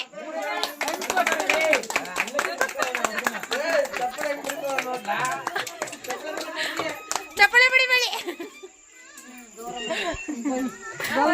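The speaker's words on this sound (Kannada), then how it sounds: "ಚಪ್ಪಾಳೆ ಹೊಡಿರಿ" People clap their hands in scattered bursts at a Ganesha immersion gathering, the claps mixed under lively talk and children's voices that dominate much of the scene.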